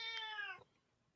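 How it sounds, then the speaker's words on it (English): A hungry cat gives a single clear, close meow lasting about half a second before fading into near silence. "Damn, that cat was hungry, bro."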